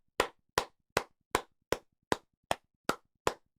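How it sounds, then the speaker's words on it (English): Nine crisp hand claps land one after another at a steady, even pace, close and distinct with silence between each, no voices. "You deserve a few claps."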